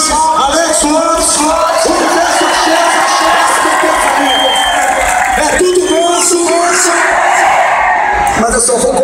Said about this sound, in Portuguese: Uma salva de palmas, Alex Lopes.